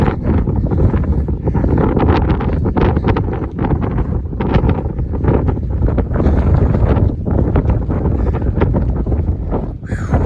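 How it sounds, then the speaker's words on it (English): Strong wind on a Northern California stretch of the Pacific Crest Trail buffets the microphone in loud, rumbling gusts, a continuous roaring blast with no pauses. "Nice and windy."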